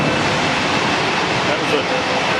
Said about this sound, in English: That's a train going past.